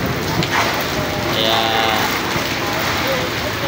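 Heavy rain with wind pours down steadily in Luzon, a dense, loud, continuous hiss filling the whole moment while a voice speaks briefly over it.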